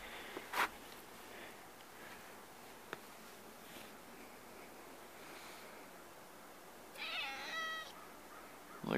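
A cat out in the snow gives a faint, short meow late in the clip, heard over a steady outdoor hiss with a couple of small rustles and taps before it.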